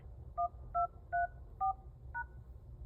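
Four short two-tone beeps from the keypad of a Grandstream GXV3470 IP telephone, then a fifth, softer tone, crisp and evenly spaced over a quiet background with no talking.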